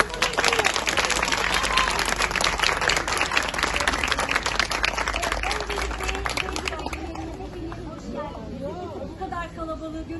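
Loud crowd applause fills most of the clip, dense clapping that thins out near the end as a voice and chatter take over.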